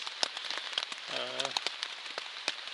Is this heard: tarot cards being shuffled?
no